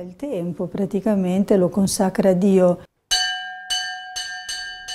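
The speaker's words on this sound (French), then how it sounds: "Ils entendent sonner la cloche." After someone speaks, a convent church bell rings out clearly with several resonant strikes that sustain and overlap, close and fairly loud.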